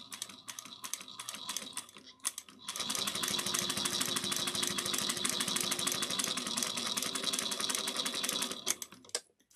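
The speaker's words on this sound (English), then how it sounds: "we're just going to sew 1/8 of an inch all the way around" A sewing machine stitches a seam all the way around at an eighth of an inch, its rapid steady needle clatter running continuously and fairly loud after a short stop-start burst at the beginning, with no talking.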